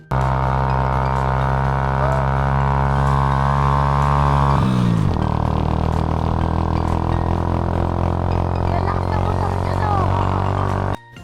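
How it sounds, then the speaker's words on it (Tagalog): Motorcycle carrying two riders climbing a steep uphill road, its engine droning loud and steady, labouring hard and dropping pitch midway as it shifts, then pulling on without letup. "kala ko paatras ang motor namin eh. Pero hindi, paahon yan mga guys. Ganyan katarik"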